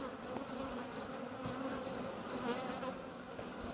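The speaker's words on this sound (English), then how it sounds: "We're checking these bees." Honey bees buzz during a hive inspection after seven weeks unopened, a steady, dense hum of many insects close around the open hive, with no talking.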